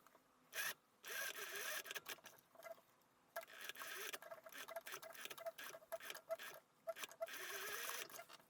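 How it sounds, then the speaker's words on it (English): Sewing machine stitching around a dress collar, giving bursts of quick mechanical whirring and ticking that start and stop in short runs at close range, with no voices. "we can go ahead and sew from this point at the fold line all around the collar towards the other side right here"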